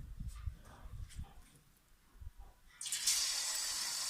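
Raw chicken goes into plenty of hot oil over a low flame while making chicken nihari. Quiet kitchen clatter gives way to a sudden, steady sizzle that swells and fills the last second and a half.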